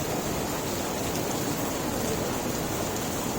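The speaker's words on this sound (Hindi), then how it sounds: "सुबह सुबह कितनी तेज़ बारिश हो रही है।" Heavy morning rain pours down in a steady, dense hiss of drops, loud and continuous without any break, and no voices are heard over it.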